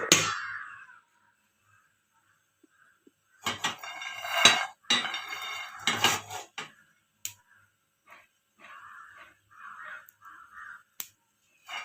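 Peanuts dry-roasting in a pan for a Marathi dill greens dish, with bursts of dry scraping and rattling as they are stirred, broken by pauses and a few faint clicks.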